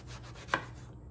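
A single crisp knife cut through eggplant, slicing it into quarter-inch rounds, lands as one short, close thud-like chop over a faint steady background hum.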